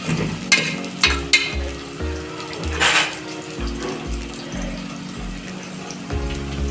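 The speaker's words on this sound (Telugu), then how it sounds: "ఉల్లిపాయలు బాగా బ్రౌన్ అవ్వాలండి" Browned onions sizzle in hot oil as turmeric goes in for a Hyderabadi-style mutton curry. A steady, close frying hiss carries several louder bursts and clinks from stirring against the pan.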